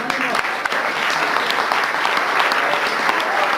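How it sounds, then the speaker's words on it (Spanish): A crowd at a national banking congress claps loudly and continuously, dense applause with scattered sharper hand claps standing out, close and strong throughout. "Fuerte el aplauso, compañero."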